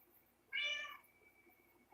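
A single house cat meows once, a short, clear, mid-pitched call up close in a quiet room, with a faint sound starting just at the end.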